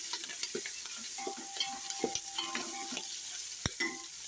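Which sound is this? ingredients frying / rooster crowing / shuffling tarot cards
ingredients frying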